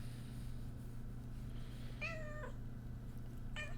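A house cat meows twice indoors, a drawn-out call followed by a shorter one about a second later, heard close and clear over a steady low background hum.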